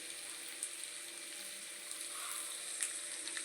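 Eggs fry in a pan with a steady, faint, high sizzle, broken by a few small pops.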